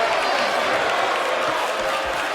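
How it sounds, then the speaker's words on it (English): A crowd in a professional wrestling video game chants and cheers as a dense, loud roar lasting throughout. "The crowd chanting this is awesome."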